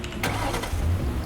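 A car engine in the Roblox video game cranks and turns over, followed by a low rumbling idle, fairly faint and brief.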